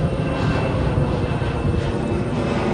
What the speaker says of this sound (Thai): มาดูเครื่องบินขึ้นกันนะครับ